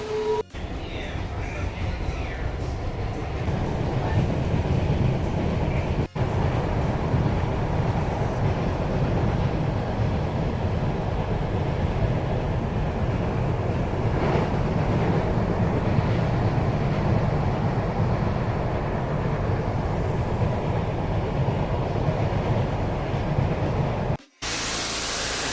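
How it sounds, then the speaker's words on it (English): A delayed train arrives at a station platform with a long, steady rumbling roar and hiss of wheels and carriages passing close by, sustained loudly throughout. "The train is here."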